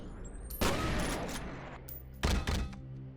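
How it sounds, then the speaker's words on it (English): Two loud, close blasts from the VK-12 shotgun in the F.E.A.R. video game, each a heavy boom followed by a short ringing tail, spaced under two seconds apart. "This powerful boomstick tears apart whatever is in front of it."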